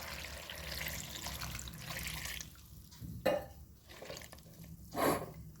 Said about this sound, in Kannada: ಹಾಗೆಯೇ ನೀರು ಹಾಕ್ಕೊಳ್ತಾ ಇದ್ದೇನೆ.